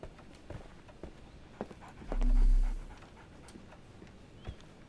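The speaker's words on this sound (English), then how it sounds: "So, Barnes has a dog now." A dog in the Sherlock Holmes The Awakened video game pants in short, quick breaths, with a louder, fuller burst near the middle and faint footstep-like clicks in the background.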